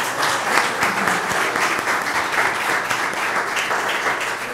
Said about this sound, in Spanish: Vamos a darle un gran aplauso a esta jovencita.